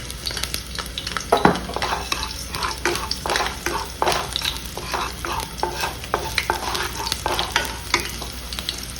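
Two spoons of coriander seeds stirred in a hot pan while making South Indian masala sambar, with a steady close sizzle and repeated scraping and stirring strokes throughout.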